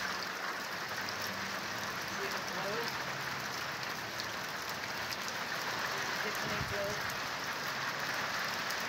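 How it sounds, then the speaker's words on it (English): Rain falls steadily in a soft, even hiss of drops on surfaces, constant and moderately faint throughout with no breaks. "Thank you, Jesus, for the rain."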